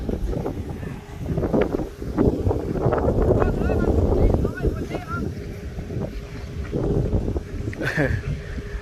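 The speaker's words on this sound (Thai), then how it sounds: "ลมแรงครับพี่น้อง" Strong wind buffets the microphone with a heavy, gusty low rumble that swells and fades, while people talk over it.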